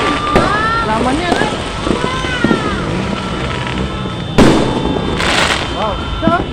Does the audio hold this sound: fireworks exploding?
yes